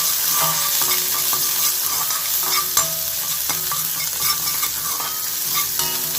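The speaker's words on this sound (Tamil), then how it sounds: "வெங்காயத்தை சேர்த்து நல்லா வதக்கிக்கலாம்" Onions sauté in hot oil with beans and potatoes, giving a steady crackling sizzle. Frequent spatula scrapes and light clicks from continuous stirring run throughout, with no talking.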